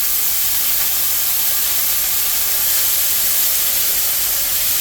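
A hot pan of stir-fried ingredients for a low-carb Instant Pot roast sizzles steadily, a loud, dense, unbroken hiss that stays level throughout with no talking.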